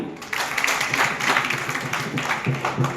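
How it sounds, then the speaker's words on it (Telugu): Audience clapping at a Madiga rally, a dense burst of applause lasting a few seconds, loud and close with scattered individual claps. "గట్టిగా చప్పట్లు కొట్టాలి"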